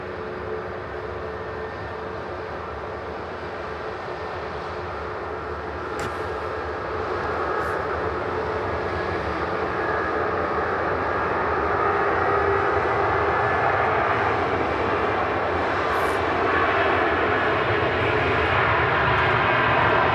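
An EasyJet A320neo airliner passes with a broad, steady jet roar that swells gradually over twenty seconds, loud and continuous with no one speaking.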